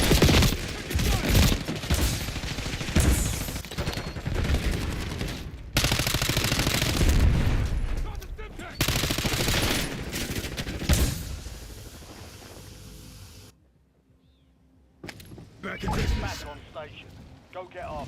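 Heavy, sustained video-game gunfire: loud automatic bursts and rattling volleys pound almost without pause, drop out briefly into near silence, then flare up again, with game radio voices calling out over the shooting.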